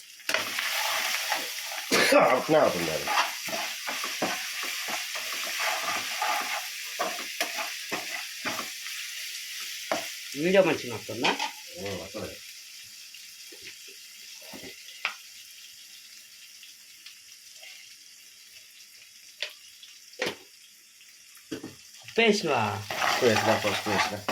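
Turmeric, ginger paste, green chilli and onion fry for a chicken curry, with steady stirring scrapes and a soft sizzle in the pan. A voice talks on and off over the cooking.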